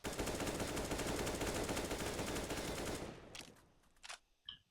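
Rapid gunfire in a CS:GO match, a dense burst of P2000 pistol shots lasting about three seconds, loud and close, then trailing into a few isolated clicks and quieter game sounds.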